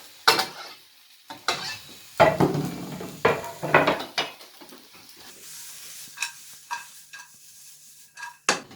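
Garlic frying over lowered heat in a pan for a homemade chicken and vegetable curry: a soft, steady sizzle broken by repeated scraping and clattering stirs against the pan, with no talking.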